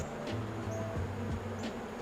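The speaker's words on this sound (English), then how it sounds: "it's a little scary at first to see a bucket full of bees" Honey bees crowded in a bucket give a low, steady droning buzz, faint and continuous, with a few brief louder wing flickers.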